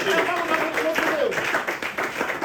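A church congregation claps in praise of God, a dense patter of hands running throughout with voices and a sung or called line layered over it.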